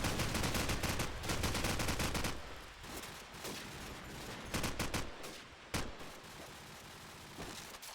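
Rapid bursts of gunfire from Call of Duty 4 played at a LAN tournament in Stuttgart, loud and close, with dense automatic volleys and single sharp shots spaced apart.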